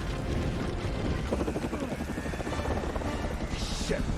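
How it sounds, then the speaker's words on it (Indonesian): A helicopter's rotors churn in a steady, dense thrum through a film prison-escape scene, loud and continuous, with a narrator's voice talking over it. "Mereka pun berhasil kabur dari penjara dengan helikopter."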